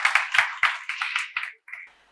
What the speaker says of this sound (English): Give yourselves a huge round of applause for that game.